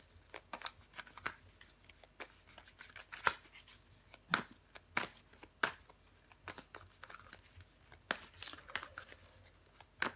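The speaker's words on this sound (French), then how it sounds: "On va recouvrir des cartes." Tarot cards are shuffled and flipped over close by, with a quiet run of crisp flicks, riffles and papery snaps coming in bursts, some sharper slaps standing out, at low volume and with no talking.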